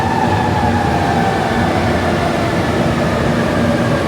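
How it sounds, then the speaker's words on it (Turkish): A metro train in Manila rumbles and hums steadily as it pulls into the station, loud and close with a continuous mechanical drone. "Bak geldi şimdi metro, göstereceğim size."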